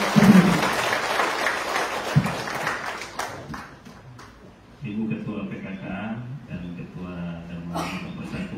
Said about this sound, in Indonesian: Mari kita berikan aplaus yang mulia buat Bapak.